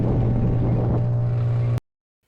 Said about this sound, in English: Engine working its socks off